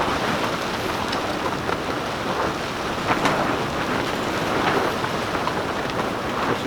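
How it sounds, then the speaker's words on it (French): Steady rain with gusting wind outdoors in a vegetable garden where potato furrows are being dug, a continuous broadband wash with faint brief thumps, no voices. "La pluie, le vent."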